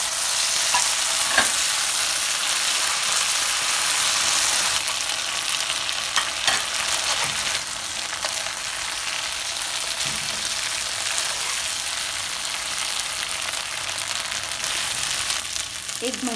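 Gobi manchurian cauliflower pieces sizzle steadily in hot oil in a pan, with a constant loud frying hiss and occasional scraping stirs of a spoon throughout.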